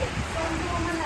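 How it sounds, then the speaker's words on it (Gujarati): Heavy rain pours outside a home in Gujarat, a brief, even wash of dense hiss with a faint voice beneath it. "તો ગાઈસ અમારે તો ખાવાની બાકી છે વરસાદ ફૂલ આવી ગયું"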